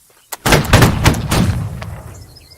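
A battle line fires a volley on command from behind a barricade: one sharp shot, then a ragged, overlapping crash of musketry over about a second, followed by a single late report and fading echo.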